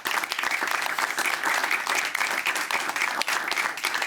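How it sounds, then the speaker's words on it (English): An audience at a football league awards show applauds steadily and loudly, dense clapping from a large crowd continuing without pause. "Round of applause, please, ladies and gentlemen."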